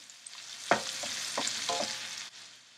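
Onions and green chili stirred in a hot pan for tomato rice, a soft scrape of the spoon followed by several short strokes over a steady frying sizzle, close and moderately quiet with no talking.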